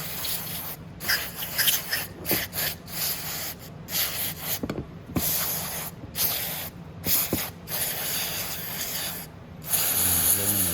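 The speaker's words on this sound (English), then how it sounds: "going to spray the outside of the carb" An aerosol can of carburetor cleaner sprays onto the outside of a carburetor in repeated hissing bursts of varying length, close up, with brief pauses and a few light clicks between them.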